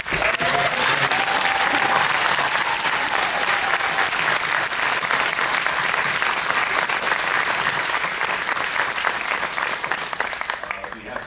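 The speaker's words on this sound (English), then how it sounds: "They really deserve a huge round of applause." A theater audience aboard a cruise, at a live podcast recording, gives a long, loud round of applause for the backstage staff and technicians; the thick clapping holds steady with some cheering voices before tapering slightly at the end.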